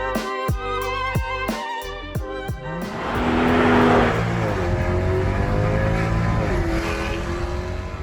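A Mercedes S-Class Pullman limousine drives along, its engine running steadily and swelling into a louder rush of road and engine noise with rising tones, all fairly close, and no one talking.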